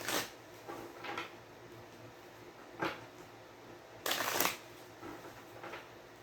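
Tarot cards shuffled by hand in several short riffling bursts, with pauses between, close and fairly quiet, the longest burst near the end.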